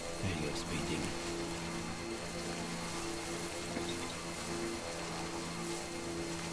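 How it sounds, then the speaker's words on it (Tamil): Steady rain falls in the video game Death Stranding, a constant soft hiss and patter of drops that stays even and fairly quiet throughout, with a low background hum beneath. "ஓகே, மழை பொழிய போகிறது என்று நினைக்கிறேன்."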